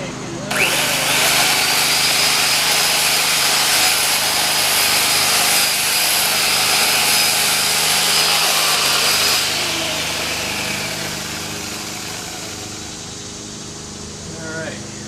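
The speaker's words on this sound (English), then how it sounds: "Chainsaw hot. See if we can't get it out." A chainsaw runs hot while cutting, a loud, continuous high-revving whine that holds steady, then drops to a lower idle near the end.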